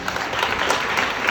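A short stretch of steady audience applause, many hands clapping densely at an even level with no voices over it.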